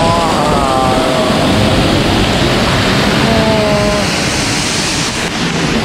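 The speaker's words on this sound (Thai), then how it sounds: "ดูบรรยากาศตรงน้ำตกฮะโอ้โหสวยมากเลย โอ้ยน้ำแรงมาก" Loud, steady roar of rushing water, like a waterfall close by, a constant broadband wash with faint tonal sounds briefly rising above it.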